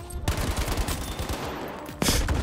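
Gunfire in Battlefield V: a rapid burst of repeated shots, loud and close, followed by a sharper blast near the end, with no talking over it.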